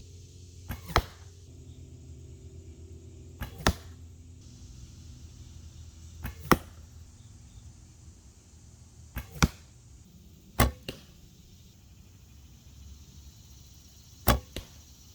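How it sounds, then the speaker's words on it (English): TopArchery carbon arrows are shot at a target outdoors, six sharp impact thwacks spaced a few seconds apart, each a brief crisp hit over a quiet background with no talking. "take some more shots, and just test a little bit more on arrow flight"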